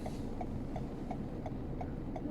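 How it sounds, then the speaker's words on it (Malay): The turn signal of a Toyota Harrier ticks inside the cabin with an old-style relay click, giving about seven crisp, evenly spaced ticks over a low engine hum. "This is a very old school signal sound lah."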